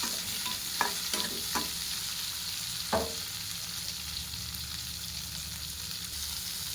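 Large-cut capsicum frying in a kadai pan after onions, a steady soft sizzle with a few quick spatula scrapes early and one more near the middle, then a continuous hiss alone, quiet and close.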